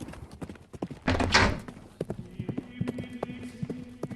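Horse hooves clop in a quick irregular rhythm as a phantom horse charges through abbey ruins in a ghost story effect, with a loud thud and whoosh early on, a faint whinny, and a ringing tone under the hoofbeats.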